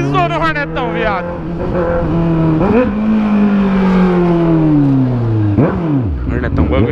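Honda Hornet motorcycle with a straight pipe exhaust revving, loud rising and falling engine notes with sharp blips around two and three points, ridden up close while a rider talks over it.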